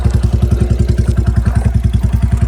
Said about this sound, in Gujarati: ભાઈ બાઇક ચલાવી લઈશ ને હવે નીકળીએ.